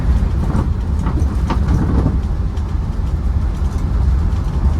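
A 1997 Land Rover Defender 90 with a 300Tdi diesel cruises at 40 mph on a dusty road, its loud, steady low engine drone and road rumble filling the cab without a break.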